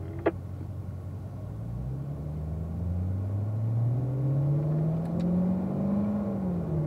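Cars roll out onto the track at Spring Mountain, an engine note climbing slowly in pitch as the vehicle pulls away and gathers speed, a moderate steady rumble heard from inside with a sharp click at the start.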